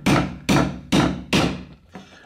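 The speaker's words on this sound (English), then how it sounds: "I have to take my pliers and just hammer it over here on the top." Pliers hammer the top of a switch-mode power supply casing to crack it open: four sharp, evenly spaced metallic knocks, loud and close, then a fainter fifth tap.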